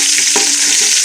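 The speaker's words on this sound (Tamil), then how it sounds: "வெங்காயம் நல்லா வதக்கணுங்க." Onions and curry leaves sauté in a pan for a country chicken fry, giving a loud, steady hiss of frying with a couple of soft stirring bumps.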